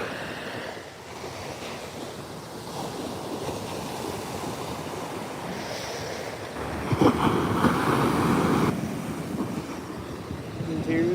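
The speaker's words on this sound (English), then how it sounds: "And hear the sounds of the waves." Ocean waves wash onto a beach at night in a steady broadband roar that swells louder partway through, with a voice talking faintly underneath.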